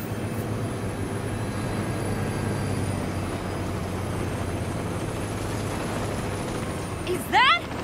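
Steady rumble of a train in the Saints Row video game, continuous low roar throughout with a brief high squeal near the end.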